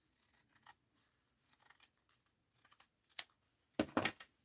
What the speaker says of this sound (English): I'll cut it right here